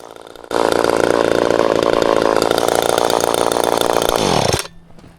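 Chainsaw roaring at full throttle while cutting firewood outdoors on a snowy day, a loud steady engine drone lasting several seconds before the revs drop and it cuts off to near silence.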